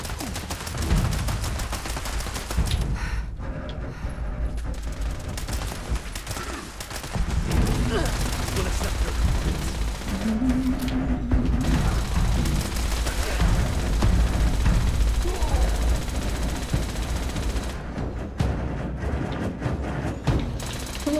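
Rapid gunfire and clattering weapon mechanisms from the online game Fallout 76, a dense loud stretch of shots running almost the whole time, with a voice talking faintly underneath.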